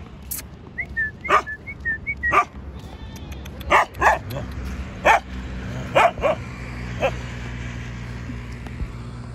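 Several dogs bark along a roadside during a trip by vehicle, giving a string of sharp, irregular barks at moderate distance over a steady low engine hum.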